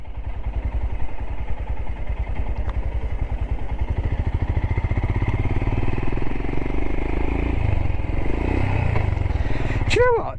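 Royal Enfield Himalayan motorcycle riding on back roads, a loud, steady single-cylinder engine thrum close up with rattling and wind throughout, continuous for the whole stretch.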